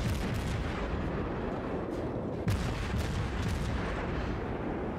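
Heavy naval gunfire in World of Warships keeps up a dense, continuous rumble, with deep booming shell impacts and splashes landing near the player's ship and several sharper blasts standing out through the barrage.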